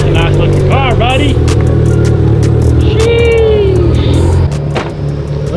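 A Mitsubishi Evo sits idling with a lopey, uneven rumble, a close, loud engine drone running steadily beneath people chatting nearby.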